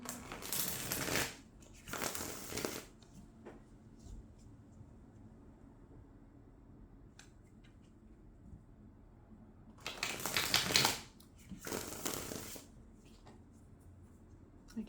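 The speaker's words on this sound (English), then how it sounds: "I get so much joy out of shuffling. I love the sound that it makes" Tarot cards riffle-shuffled in two pairs of brisk bursts separated by a quiet pause, close and crisp.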